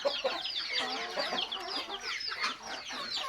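Many chickens kept at a village home cluck and squawk together, a dense, lively chorus of overlapping calls close by.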